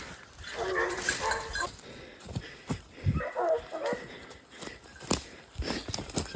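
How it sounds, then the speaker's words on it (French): Hunting dogs on a wild boar hunt in the Cantal, France, bark and whine intermittently amid rustling and footsteps in woodland, moderately close, with occasional faint voices. "Les chiens prennent la direction des phages."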